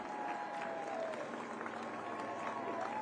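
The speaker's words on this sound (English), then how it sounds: "Large crowds out in shore to celebrate and cheer on the fourth stage" Large crowd applauding and cheering at the finish of the fourth and final stage of the women's Tour of Britain cycling race, a steady wash of clapping and crowd noise throughout with faint talk mixed in.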